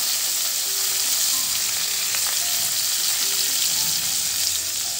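Coriander and curry leaves sizzle in hot tempering oil with asafoetida, a steady close crackling fry with faint stirring, no voices.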